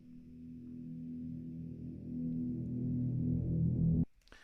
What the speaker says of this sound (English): which sounds like this reverse reverb